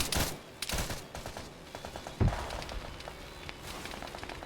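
Bursts of gunfire from a large-scale Arma 3 military battle, with sharp shots and a heavier nearby report among quicker distant rattles and scattered footsteps, loud and continuous throughout.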